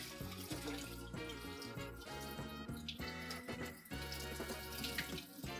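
Kitchen tap water running steadily into a bowl to cover food for rinsing off starch, a close, continuous splashing stream with no talk.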